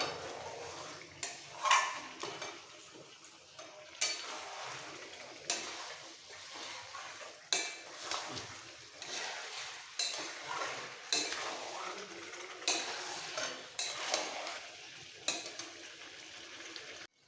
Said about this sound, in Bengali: দই দেওয়ার পরও দু মিনিট এইভাবে কষিয়ে নিতে হবে